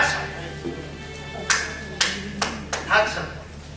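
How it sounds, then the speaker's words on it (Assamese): Hands clap about five times at irregular intervals, crisp and fairly close, over a low steady background hum with a faint murmur of voice. "এই যে মই হাত চাপৰি বজাও"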